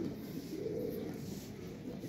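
Pigeons cooing softly and steadily in a low, continuous murmur, faint and fairly close, with no one talking.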